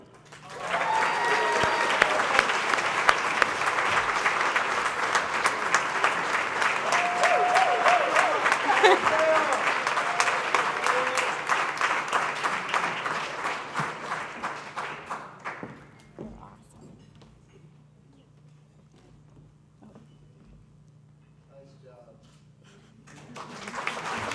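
An audience at an appreciation dinner applauds, a sustained burst of clapping from a crowd that swells and then trails off into scattered claps and quiet room noise.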